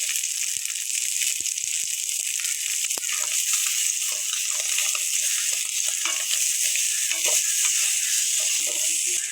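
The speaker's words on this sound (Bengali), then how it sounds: "দেখো বন্ধু বান্ধবীরা, আলুগুলি আমার একটু ভাজতে হবে।" Potatoes fry with turmeric in a hot pan, giving a steady, close hiss and sizzle with occasional faint stirring clicks.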